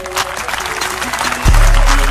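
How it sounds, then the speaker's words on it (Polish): A concert audience breaks into applause at a Polish rap show, a burst of clapping that swells in and continues under the music until the end. "oklaski"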